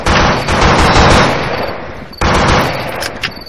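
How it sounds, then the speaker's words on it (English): Gunfire rattles in the zombie pig shooter Blood and Bacon, loud, rapid machine-gun bursts in two long volleys separated by a brief gap. "I'm shooting at the moon."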